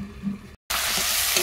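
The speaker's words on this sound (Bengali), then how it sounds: "কষা হচ্ছে বন্ধুরা, কষা প্রায় হয়ে গেছে।" Duck meat sautéing in a pan during village-style cooking, a soft sizzle that cuts out briefly, then returns as a loud, steady frying hiss with stirring, no voices.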